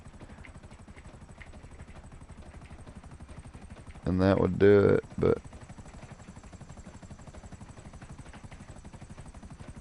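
A helicopter flies in the video game GTA Online with a steady, low rotor drone throughout, heard at moderate level while someone speaks briefly over it midway.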